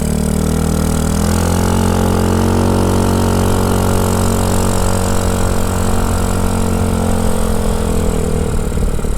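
A Honda Ruckus scooter fitted with a 150cc Chinese engine runs steadily, a close, loud droning putter whose pitch rises slightly as it revs and then settles, with no talking.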